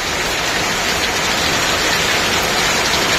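Heavy rain pouring down, a dense continuous hiss of falling water that is loud and steady throughout.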